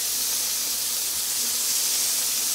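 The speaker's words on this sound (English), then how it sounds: "we're going to start frying up our bacon" Steady, loud sizzling hiss of bacon frying in olive oil in a pan, continuous and close.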